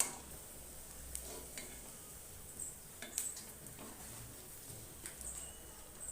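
Soya kola urundai balls frying in hot oil, a low steady sizzle with faint scattered crackles and an occasional utensil tick, quiet and without talk.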